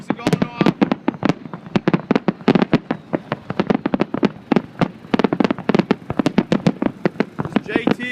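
Fireworks burst in rapid, irregular volleys at an electronic music festival in Las Vegas, loud sharp pops and cracks packed closely together, with voices faintly in the background.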